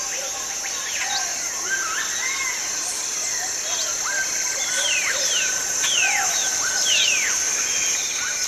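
Tropical rainforest birds that follow army ants call over a constant high insect buzz, with many overlapping chirps, whistles and short trills from several birds near and far.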